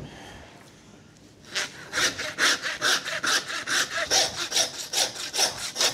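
After a quiet start, a saw rasps back and forth through beef bone in a quick, steady rhythm of strokes, close and loud.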